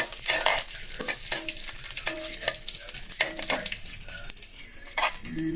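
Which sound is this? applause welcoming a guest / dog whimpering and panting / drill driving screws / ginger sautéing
ginger sautéing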